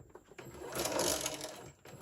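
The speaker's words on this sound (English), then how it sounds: "I'm going to sew it straight down, trying to keep my square as straight as I can." Sewing machine running a short straight seam down a fabric square for a book pillow, a brief burst of fast stitching that swells and then stops, with small clicks at the start and end.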